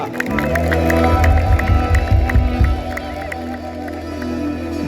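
A stadium crowd at a gospel concert ululates and applauds together, a loud, dense wash of trilling voices and clapping that peaks in the middle, with music underneath.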